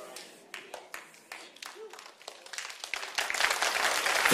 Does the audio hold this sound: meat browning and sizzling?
no